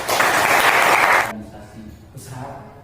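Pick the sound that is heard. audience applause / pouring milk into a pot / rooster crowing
audience applause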